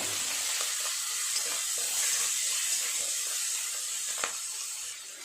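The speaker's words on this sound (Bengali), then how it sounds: "চিংড়ি মাছ খুব বেশি ভাজা হতে লাগে না সময়" Shrimp sizzle steadily in hot oil in a pan, with soft stirring scrapes throughout and one sharper clink near the end. The frying stays close and even from start to finish.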